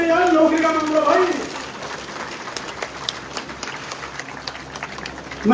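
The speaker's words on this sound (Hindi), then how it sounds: "तालियां जोर से बजनी चाहिए यार" Applause and cheering rise from a crowd honouring a man at a public gathering, loud and dense at first, then thinning into scattered claps over a wash of crowd noise, with voices talking over the start.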